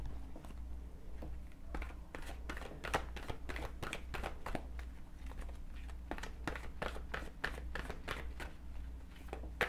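A deck of playing cards is shuffled close by, giving a run of quick, crisp riffling snaps and flutters in irregular bursts over a steady low hum, with no talking.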